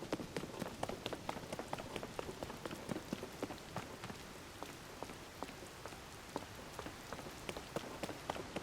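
Rain in The Legend of Zelda: Tears of the Kingdom, a steady patter of drops hitting the ground with sharp scattered ticks throughout, heard alone without talk.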